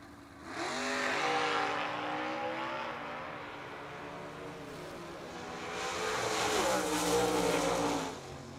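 Drag race cars launch at a footbrake challenge, their engines surging with rising harmonic revs, then fading a little before a second loud roaring pass sweeps by and tapers off.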